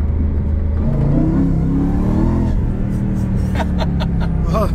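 A sports car that reaches 0–100 km/h in about three seconds accelerates hard, its engine revving loudly and steadily up in pitch close by, while voices talk over it.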